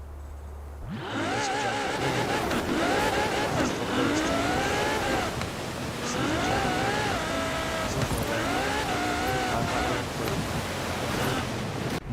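A car in Forza Horizon 4 drives under a steady rush of engine and road noise, with revving engine tones that rise and fall in several repeated surges over twelve seconds.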